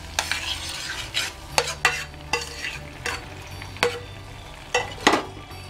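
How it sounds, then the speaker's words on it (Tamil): A spoon stirs carrot and aval halwa with ghee in a kadai, making close, rhythmic scraping strokes about every half second over a faint sizzle, with no voices. "போட்டுட்டு கடாயில் ஊற்றிட்டு நெய் அப்படியே கிண்டி எடுத்துருங்க."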